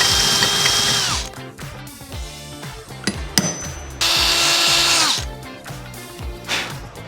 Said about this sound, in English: Now I am clear to drill out those holes.